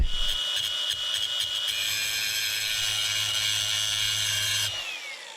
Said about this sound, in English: So let me grind this out and we'll take a look at if this is going to be, if we're going to be able to weld this or not.